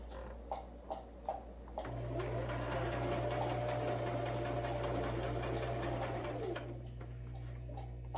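A sewing machine stitches a hunter's blanket on a coffee table, running in a steady continuous drone for several seconds after a few short taps, close and fairly loud with no talking.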